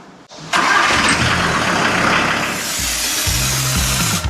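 A VW T4 van's AAB engine cranks briefly, then fires and settles into a steady, rumbling idle, close and loud with no talking.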